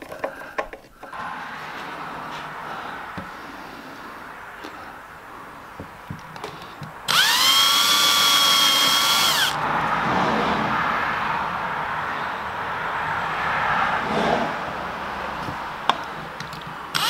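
A power drill drives screws into pallet wood, a high whining buzz of about two seconds with a rising pitch, close and loud amid quieter handling knocks and clatter before and after.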